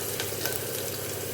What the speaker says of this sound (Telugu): అల్లం యాడ్ చేస్తున్నాను